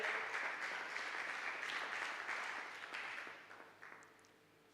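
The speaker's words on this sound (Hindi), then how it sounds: "वचन के लिए ताली बजाएंगे।" A church congregation at a Sunday evening miracle service claps for the scripture reading, a steady wash of applause that holds, then thins and fades toward the end.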